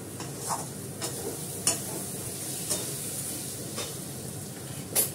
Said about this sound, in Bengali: এটা কষতে থাকো। তেল ছাড়ছে।